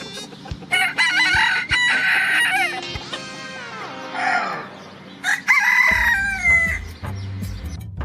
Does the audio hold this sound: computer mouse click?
no